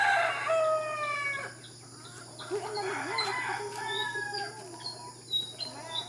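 Chickens and a rooster in a backyard coop: a loud rooster crow opens, followed by scattered hen clucks and chirps against a steady background hum, with a brief voice heard in the mix.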